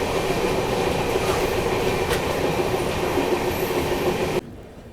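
A moving passenger express train approaching Bina Junction, heard from inside as a loud, steady rolling rumble of wheels on rails that suddenly drops away near the end.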